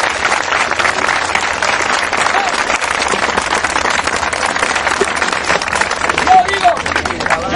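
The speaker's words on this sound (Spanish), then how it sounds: "Cuando aplaudan, aplaude con ganas." A crowd at a Peruvian comedy show applauding, steady, dense clapping from many hands that carries on for several seconds with a murmur of voices mixed in, loud and fairly close.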